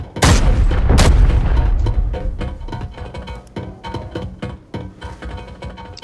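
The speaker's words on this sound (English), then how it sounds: "He's shooting grenade now." Loud, heavy grenade blasts boom close by in the Arena Breakout Bunker map firefight, two big explosions in the first second followed by a rapid spatter of gunfire and smaller impacts that taper off.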